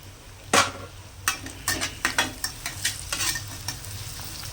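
Onions sautéing in a pan with a little salt give a steady sizzle under a quick run of rhythmic spatula scrapes and taps, about a dozen close strokes, with no one speaking.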